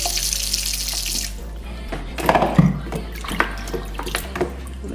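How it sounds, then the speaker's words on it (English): Tap water runs into a bowl of raw lamb chops at a kitchen sink, a steady splashing pour that fades out, followed by a few clinks and handling knocks. "I'm gonna add a little bit of water in there."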